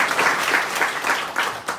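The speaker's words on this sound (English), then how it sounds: "So give yourselves a round of applause." Brief, close applause from an audience at a political breakfast gathering, with a quick rhythmic pattern of bursts over under two seconds.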